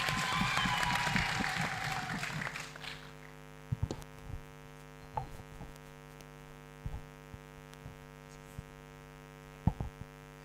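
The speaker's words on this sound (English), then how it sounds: "Hands of applause to Mr." Applause at a health summit fades out within the first few seconds, leaving a steady electrical hum with scattered faint knocks and thumps.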